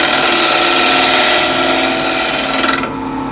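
Wooden bowl spinning on a lathe at 1200 RPM while a bowl gouge cuts the rim, a loud steady scraping drone with a rising whine that drops away sharply near the end.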